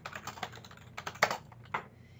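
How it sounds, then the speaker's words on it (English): Quick bursts of keystrokes on a computer keyboard as a free-form note is typed into dental practice management software, with uneven pauses and a few harder taps, close and clear with no talking. "typing out a free-form note"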